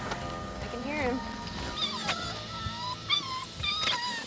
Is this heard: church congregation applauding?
no